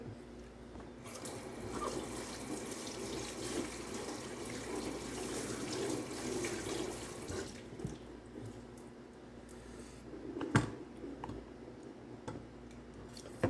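Running tap water washing a carrot in a kitchen sink, a steady close rush of water with some rattling and handling, a sharper knock near the end; no talking.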